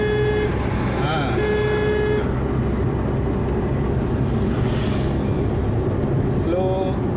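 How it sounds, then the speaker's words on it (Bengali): During a driving lesson on the road near New Barrackpore, a car horn sounds in short close blasts early on, then again faintly near the end, over constant traffic and engine noise while an instructor talks. "হর্ন দাও, হ্যাঁ"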